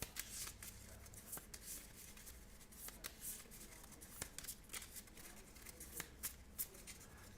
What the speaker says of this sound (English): I'm going to take it and shuffle it back into my deck